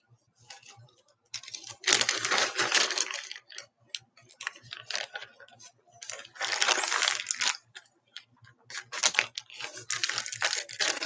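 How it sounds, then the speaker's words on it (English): Plastic wrappings crinkle and rustle in bursts while ribbon is pulled out of them, loud and close, with short pauses between the crackly handling noises. "I hope all this crinkling from this the wrappings and stuff that I'm getting the ribbon out of isn't too bothersome."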